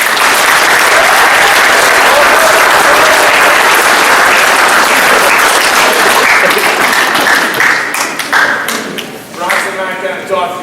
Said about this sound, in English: give a round of applause to your boys and yourself